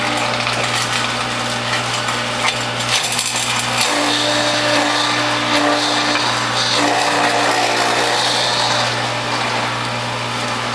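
A WHF juicer cutting dandelion greens runs with a loud, continuous motor drone, while the cutter churns and rattles through the leaves at close range, steady throughout without talking.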